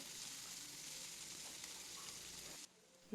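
Onion, chopped green chillies and curry leaves fry in a pan, making a soft, steady sizzle that cuts out abruptly near the end.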